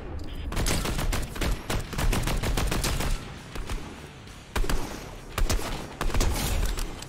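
Gunfire in Fortnite: repeated bursts of rapid automatic shots and single cracks spread across the stretch, fairly loud and close, with no talking over them.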